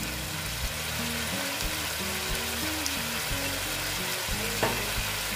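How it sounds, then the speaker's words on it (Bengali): Pabda fish curry in mustard oil simmering and sizzling in a pan after raw mustard oil is added, giving a continuous, moderately quiet bubbling fry with a low kitchen hum underneath. "এবার আমি অল্প কাঁচা তেল দিয়ে দিচ্ছি।"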